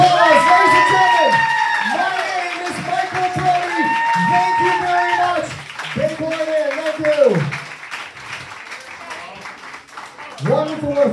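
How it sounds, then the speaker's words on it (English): Audience at a hypnosis show at the Bay Port Inn breaks into loud applause, cheers and whoops for the volunteers onstage, with excited voices shouting through the clapping. "Let's give them all a round of applause"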